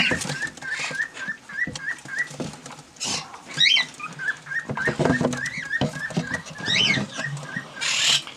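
Parent-raised dilute green-cheeked conures, including a dilute cinnamon female, give repeated short chirping calls in a steady rhythm, with a few louder sharp squawks near the microphone and faint rustling between them.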